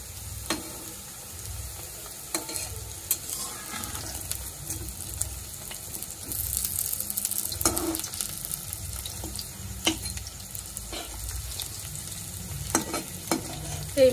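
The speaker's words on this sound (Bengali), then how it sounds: "এইমাত্রই বড়াগুলো উল্টিয়ে দিয়েছি, এর জন্য ওই পিঠটাই বেশি ভাজা" Lentil fritters (bora) frying in a pan, a continuous close sizzle and bubbling with occasional louder crackles and spatters, steady throughout without speech.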